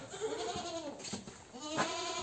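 A young goat bleats in a farm setting, a few quavering, wavering cries close by, fairly faint, with a brief louder call near the end.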